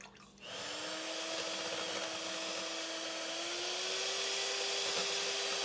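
An electric mixer whips Silk whipping cream in a chilled bowl with cold beaters, a steady loud whir starting abruptly and holding a continuous motor hum that rises slightly in pitch.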